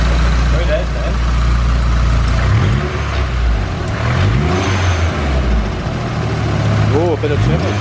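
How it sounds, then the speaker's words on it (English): An Isuzu Bighorn with a Mambo turbo upgrade revs up and settles back in a few rising and falling pulls, loud and close, while people talk over the engine. "Oh, a bit of turbo."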